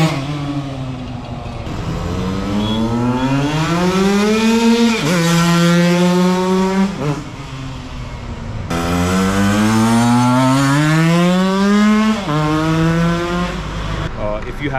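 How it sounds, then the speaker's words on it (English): A motorcycle engine runs close by and revs repeatedly, its pitch climbing and falling in two long sweeps between idling stretches, loud and rasping. "We just gonna turn on the bike and do a few runs"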